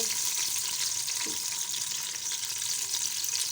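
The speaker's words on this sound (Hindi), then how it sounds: "घी गर्म हो चुका है, अब इसमें डाल देती हूँ प्याज दो" Onions sizzling in hot ghee for daal chawal, a steady close crackle and hiss that fills the whole stretch with no voices.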